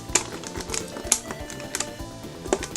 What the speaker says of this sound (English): You can hear the micro switches doing their stuff.